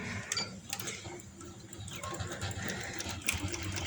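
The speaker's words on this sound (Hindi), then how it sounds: "तो इस तरह से मैं 1 सेंटीमीटर का मार्जिन अंदर देते हुए कपड़े का मैं इस तरह से सिलाई लगाती जाऊंगी।" A sewing machine stitches fabric for an umbrella palazzo, a quiet, uneven run of clicks and whirring that sounds close by, with a few sharper ticks along the way.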